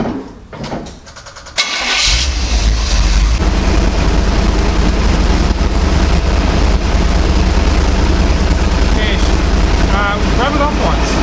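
A car engine with a 700R4 automatic transmission cranking, catching and settling into a loud, steady idle that runs on continuously after a short start-up, with some faint background noise.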